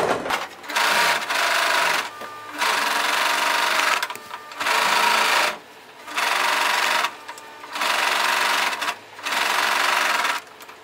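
Sewing machine finishing the side seam allowance of a front skirt: six loud, close bursts of fast stitching, each about a second long, separated by short pauses.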